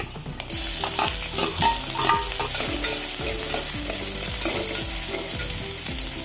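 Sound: sliced onions sautéing in a pan

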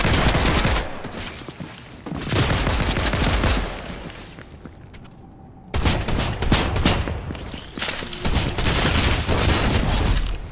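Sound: gunfire in Fortnite video game

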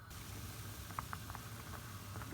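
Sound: pot of water boiling

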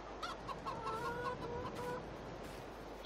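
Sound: chickens clucking in a barn, video game Farming Simulator 22

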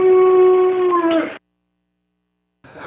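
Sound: dog howling, a 13-year-old golden retriever

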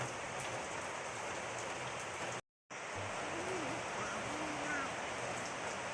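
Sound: rain falling outside

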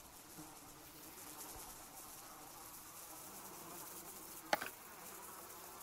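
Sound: swarm of flies buzzing in the video game Sons Of The Forest

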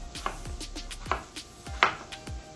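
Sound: knife cutting plantain into pieces

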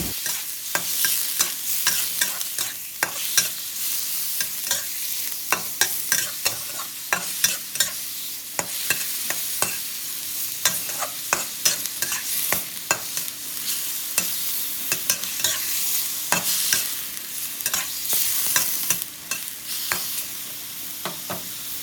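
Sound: beef stir-frying in a pan

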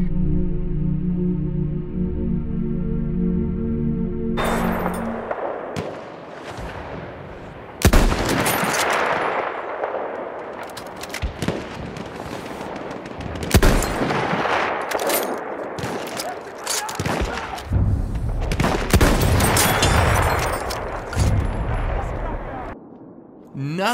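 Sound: sniper rifle gunfire in video game Battlefield 1

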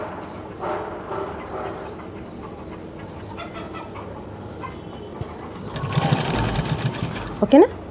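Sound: sewing machine stitching a blouse side seam

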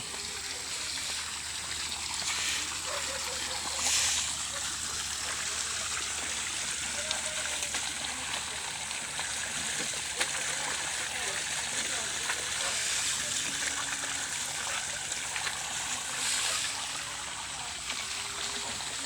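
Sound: strong flowing water heading to a rice field

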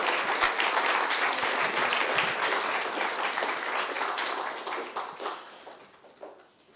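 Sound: audience applause for a departing colleague

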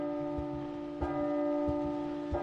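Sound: bells chiming in the video game P.T. (Silent Hills)

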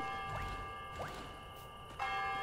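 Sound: bell ringing in video game Lonesome Village

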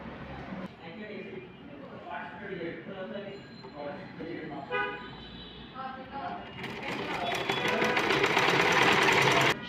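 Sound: sewing machine stitching a blouse

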